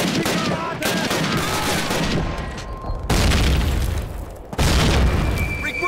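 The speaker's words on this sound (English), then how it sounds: "Have a grenade." Grenade explosions and gunfire in Call of Duty, the first game, during a village battle at dawn: loud repeated booms and bursts of shooting, with deep blasts near 3 and 4.6 seconds over a dense battle din.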